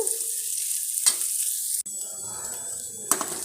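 Grated coconut is roasted in a pan with a soft continuous sizzle, broken by a couple of sharp scraping strokes of a spoon against the pan, close up and without talk.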